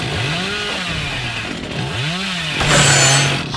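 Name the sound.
chainsaw revving in the video game Dead by Daylight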